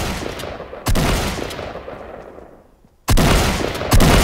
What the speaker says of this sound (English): Oh no, they're shooting you.